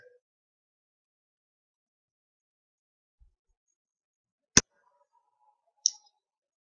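A computer mouse clicks once sharply mid-clip, with a fainter tick earlier and another short click near the end, against near silence.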